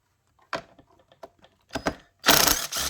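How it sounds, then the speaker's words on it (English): A ratchet loosens screws on the mirror motor of a 2020 GM tow mirror, giving several short, close clicking bursts followed by a louder, denser run of ratcheting near the end, with no talking. "I'm going to loosen the screws, but I'm actually not going to take it off yet."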